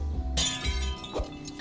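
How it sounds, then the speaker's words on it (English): Glass window pane shattering after a thrown fruit hits it in the video game TOEM, a sharp bright crash followed by brief tinkling debris, alone and fairly close. "He threw a fruit in there and it busted a window pane."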